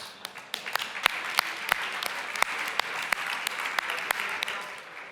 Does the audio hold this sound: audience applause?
yes